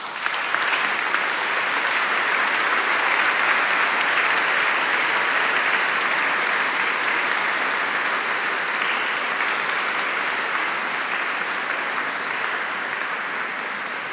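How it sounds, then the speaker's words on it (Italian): A congregation at a Pentecost vigil gives Bishop Riccardo long, steady applause, a dense and even roar of clapping in a large church that holds for many seconds and fades only slightly toward the end. "lo ringraziamo con un bel applauso"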